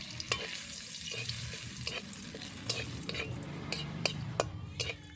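Whole garam masala, cardamom, cinnamon, cloves and bay leaf fry in hot oil for an egg curry, sizzling steadily while a spoon scrapes and clinks against the pan in irregular close strokes.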